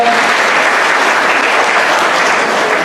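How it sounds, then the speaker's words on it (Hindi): Loud, dense audience applause at a memory management programme in Bijanbari, Darjeeling, a thick steady roar of many hands clapping together, sustained at full strength for the whole stretch. "एक बार जोर से इसके लिए तालियां बजा दो"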